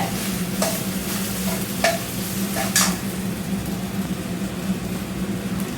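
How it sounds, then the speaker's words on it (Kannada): Okra sizzling and frying in a pan, with a steady crackle and several sharp scrapes of a spatula stirring against the metal. "ಇನ್ನೊಂದು ಎರಡು ನಿಮಿಷ ಇದನ್ನ ಫ್ರೈ ಮಾಡ್ಕೊಳ್ಳೋಣ"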